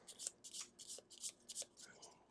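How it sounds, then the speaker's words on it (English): A deck of Gloomhaven board game cards is shuffled by hand at a tabletop, several quick riffling bursts in a steady rhythm, close and crisp. "for Crystale, we're going to go ahead and shuffle"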